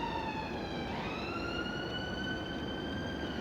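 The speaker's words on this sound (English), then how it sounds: "Sounds like a fire engine." A fire engine siren wails continuously, a rising and falling tone that holds loud and near over steady road rumble, with no voices over it.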